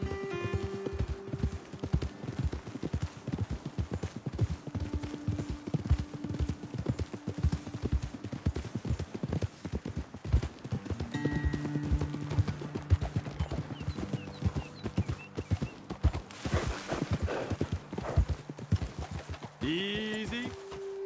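Horses ridden in Red Dead Redemption 2 clip-clop in a steady rhythmic gait throughout, close and clear, with occasional snorts, a whinny near the end and speech faintly underneath.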